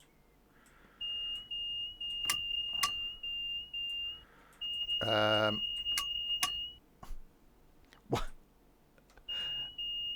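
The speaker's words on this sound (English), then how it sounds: "stop beeping at me" Inside a Bakerloo Line train cab in Train Sim World 2, a warning tone beeps in repeated steady pulses, with clicks of cab controls and a brief remark from a player in between.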